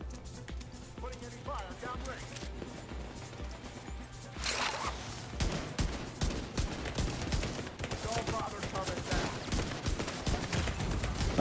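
Rifle fire in The Division 2, rapid cracking shots in bursts that grow louder and denser midway, mixed with game effects while someone talks quietly over it.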